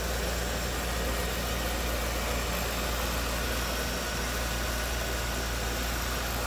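A 1995 Cadillac Sedan DeVille idles smoothly, a steady low engine hum with constant level and no revving throughout.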